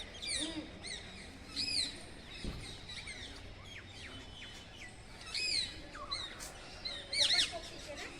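Parrots and mynas at Sherisha Parshwanath Jain pilgrimage site near Kalol, by the Narmada canal, give repeated shrill chirps and squawks in short bursts, moderately distant over a quiet background.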